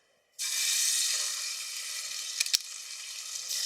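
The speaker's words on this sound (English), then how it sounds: "It is a hot skillet, which is perfect because we want this roast to brown pretty quickly" Roast beef sears in oil in a hot cast-iron skillet, a loud steady sizzle that starts abruptly and holds, with a couple of brief clinks partway through and no talk.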